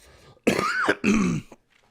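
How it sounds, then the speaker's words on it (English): A person coughs and clears their throat twice in quick succession, close and loud, with a short pause between the two bursts and no talk. "Excuse me for the cough."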